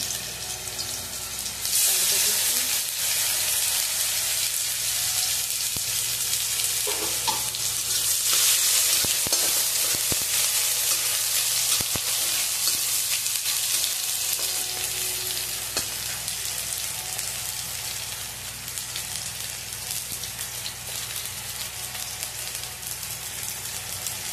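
Chopped onion hits hot oil in a wok with already-fried fish, giving a steady, loud sizzle that carries on for the whole stretch with faint stirring underneath.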